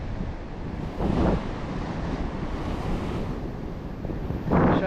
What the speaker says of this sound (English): shame about the wind